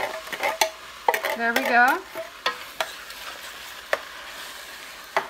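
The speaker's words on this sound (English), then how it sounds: "And then I'm gonna add the crushed tomatoes. Organic crushed tomatoes." Organic crushed tomatoes go into a sizzling vegan chickpea coconut curry pan and are stirred, with wet scraping and clattering strokes close up. A brief spoken remark comes through under the cooking sounds.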